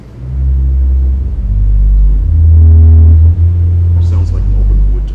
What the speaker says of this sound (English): And then there is an open diapason.